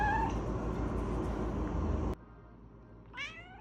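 A cat gives a single short, rising meow close by, after a few seconds of steady background noise cuts to near quiet.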